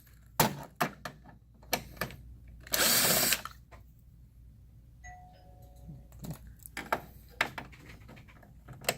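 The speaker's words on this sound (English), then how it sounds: "We're going to remove those three screws." Screws being taken out of the cover of a Konica Minolta Bizhub C3850 scanner with a power driver, heard as one short whirring burst of the driver among sharp clicks and small handling taps in a quiet room.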